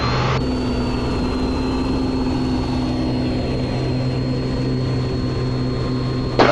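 Piper Comanche 250 propeller engine running at full power in the cockpit, a loud steady droning roar with a constant hum and whine that holds evenly for several seconds, no talking.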